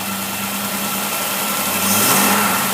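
Carbureted engine fitted with a Holley carburetor revs up and accelerates, a steady close mechanical drone that rises in pitch and loudness toward the end, with no talking.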